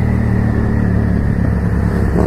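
A Yamaha MT-07 motorcycle is ridden with its engine droning loud and steady at close range, the note holding constant throughout without anyone speaking.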